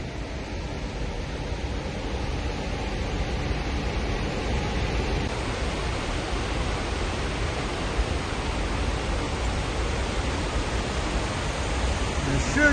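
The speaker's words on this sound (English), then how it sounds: "this is just thundering water coming across this big artificial dam that creates the falls" Water thunders over a big artificial dam that creates a waterfall, making a loud, unbroken broadband roar that fills the whole stretch at constant strength, with no clear voices above it.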